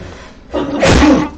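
A single sharp human sneeze, loud and close, with a short inhale building into the burst near the end.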